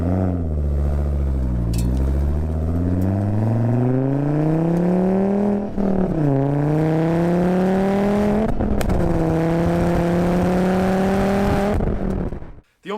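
A Volvo 2.5-liter engine revs up repeatedly, its pitch climbing and falling in several loud, close pulls, a few sweeping rises broken by brief lifts before cutting off.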